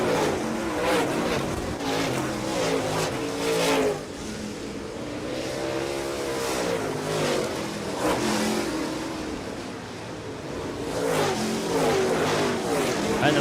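Modified race cars roaring around the oval track late in a race, engines revving and swelling in passes over a continuous engine drone, with a commentator talking over it.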